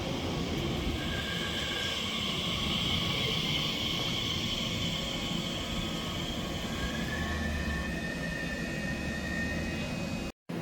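A Great Western Railway service from Oxford to London Paddington runs through Slough station with a steady, loud roar and rising whine for about ten seconds, then cuts off abruptly.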